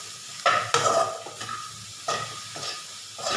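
Chopped capsicum tumbling into a frying masala for kudamilagai masala, then stirred through, with a steady sizzle and several sharp scraping stirs of the spoon against the pan, close and fairly loud.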